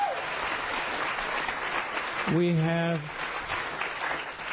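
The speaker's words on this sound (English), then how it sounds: "Hold your applause till the end" Audience applause during a lecture on Buddhist understandings of consciousness and death: a steady wash of clapping from a crowd, with a speaker's voice cutting in briefly over it midway.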